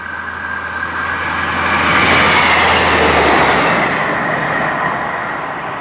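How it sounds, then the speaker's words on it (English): A train passes near a runner doing speed intervals: a broad rumble with rhythmic clickety-clack swells to a loud peak midway, then slowly fades, with no talking. "Sounds like there's another train coming past"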